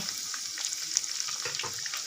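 Food frying in hot oil gives a steady, close sizzle with crackles and pops and no voices.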